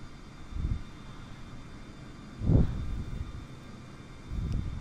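A jet airliner passing overhead in a flight simulator, a low engine rumble that swells in a few soft waves over a steady background drone.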